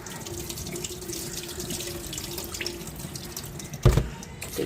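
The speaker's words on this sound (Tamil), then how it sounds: "இப்போ இது ரெண்டையும் ஒண்டா சேர்த்துட்டு நல்லா வடிவாக இருக்கா கழுவி எடுப்பேன்." Soaked rice and fenugreek are washed together under running tap water for dosa batter, with a steady close stream hissing and splashing throughout, then a sharper slosh of water near the end.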